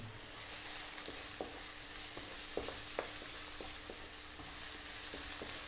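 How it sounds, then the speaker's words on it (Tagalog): Finely chopped garlic and onion sautéing in a pan for Filipino spaghetti, a soft steady sizzle with occasional light spatula taps, alone with no talk. "Gigisahin ko lang siya sandali."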